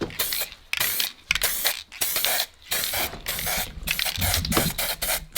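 Aerosol spray can applying a primer coat to a prepared plywood frame, in a series of short hissing bursts separated by brief pauses, close and clear, with no talking.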